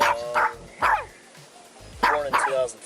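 A chihuahua working as a police dog barks in short, high yips, two quick bursts at a time with brief pauses, close and fairly loud.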